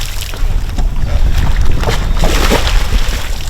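A boat motor on the Mississippi Gulf Coast shifts into gear and pushes forward, a steady, close rumble of engine and water wash mixed with wind noise, no talking.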